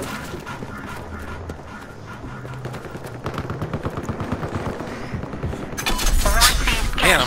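Rapid automatic gunfire in Battlefield Hardline rattles on in dense bursts, building louder toward the end. A player talks over the shooting.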